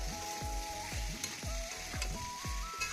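Chopped prawns frying in a hot pan, with a steady loud sizzle and about five rhythmic scraping stirs of a spatula, no voices.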